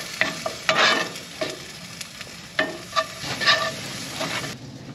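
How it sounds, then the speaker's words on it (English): Onions frying in a pan on a wood stove inside a winter hot tent, a soft sizzle broken by several close scraping stirs and clinks of the utensil. "Cook that until the onions are done."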